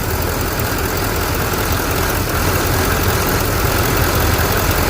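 A 2014 LML Duramax diesel truck engine runs steadily at close range, a loud, continuous low rumble that holds evenly throughout with a slight shift in tone partway through.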